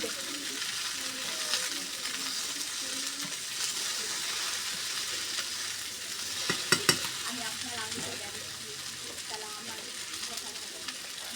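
Okra sizzles in hot oil with onion and chili in a pan, a constant close frying hiss with faint stirring and a brief cluster of sharp clicks midway, while a quiet voice may be faintly present.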